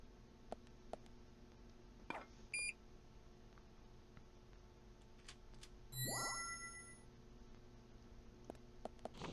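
In the video game Deadly Premonition a door opening gives a bright, ringing electronic chime around the middle, following a few earlier short beeps and dings over quiet game ambience.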